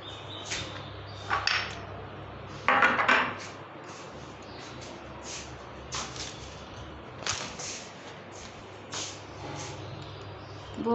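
Hand-washing of dishes, pots and pans in a home kitchen, with repeated clinks, scrapes and clatters of metal and ceramic in irregular bursts at close range, one louder rattle standing out, no talking.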